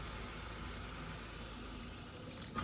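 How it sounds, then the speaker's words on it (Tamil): Water is poured in a steady, soft stream into a pan of sautéed vegetable gravy. It makes a continuous low hiss that carries on without talk. "இப்போ கொஞ்சமாக தண்ணி விடுங்க"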